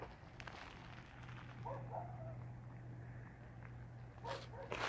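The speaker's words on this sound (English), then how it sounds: "Oh, look, our dog is barking." Family dog barking at an RV park in Fairplay, Colorado, a few short yips and barks heard at a distance over a low steady hum, quiet and sporadic.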